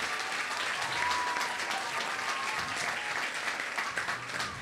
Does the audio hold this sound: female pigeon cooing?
no